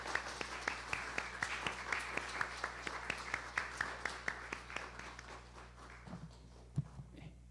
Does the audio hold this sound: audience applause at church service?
yes